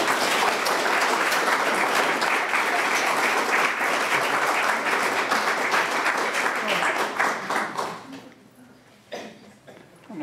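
A lecture audience applauds steadily to welcome Vancouver historian Michael Kluckner, with dense, loud clapping that thins and fades near the end as a voice begins.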